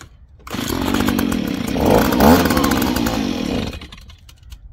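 A Stihl handheld blower's two-stroke engine buzzes loudly up close after a carburetor adjustment, revving and wavering for a few seconds in a rough, stumbling run before dropping away.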